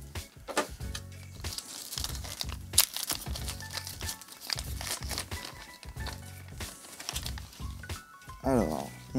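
Sealed ColdCard Mk4 hardware wallet package being torn open by hand, with repeated close crinkling and ripping of plastic packaging in uneven bursts, alongside some talking.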